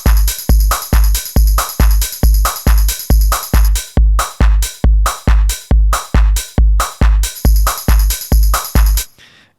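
Soloed tambourine sample in a 1990s-style techno beat, sharp jangly hits repeating in a fast rolling pattern, loud and close, pulsing steadily for several bars before stopping abruptly.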